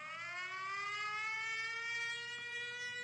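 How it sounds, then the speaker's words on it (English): Air raid siren alert sounding from a phone app in Ukraine, a single steady wailing tone held continuously, faint and slightly rising, with no talk over it. "One of the team rules is you have the air raid siren on your phone."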